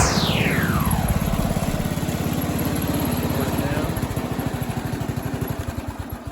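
John Deere 100 riding lawn mower running with its mowing deck engaged, a close, loud chugging engine whose pulses slow and space out as it winds down, with a falling whine at the start.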